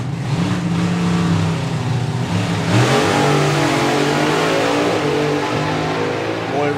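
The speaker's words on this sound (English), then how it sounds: "Bob Glassop, Roy Wilding, your last Supercharged Outlaws of the day" A supercharged outlaw drag car runs down the strip at a nostalgia drag racing event, its engine roaring loud and steady with a rising, revving pitch throughout.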